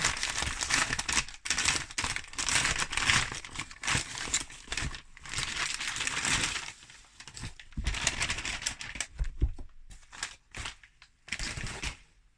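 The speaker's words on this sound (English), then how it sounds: "let's get it open and we'll see what we've got, shall we? Cue lots of rustling." Crinkly rustling and crumpling of packaging as a crochet subscription box is opened, in bursts, close up, with short pauses between handling noises.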